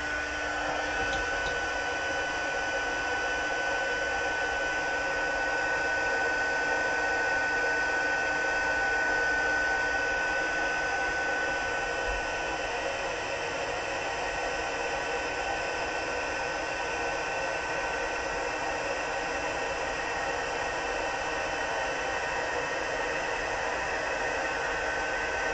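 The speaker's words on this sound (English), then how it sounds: "Let's heat set this." Heat embossing tool blowing steadily to set clear embossing powder, a constant loud whooshing hiss with a faint whine that runs unbroken and alone for the whole stretch.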